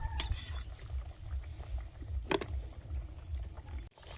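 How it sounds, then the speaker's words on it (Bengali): A pan of Bengali meat curry with potatoes and slit green chillies bubbling on the stove, a continuous low boil with soft pops and a few brighter splashes, near and steady. "ঝোলটা ফুটছে, কটা চেরা কাঁচা লঙ্কা আর আলু"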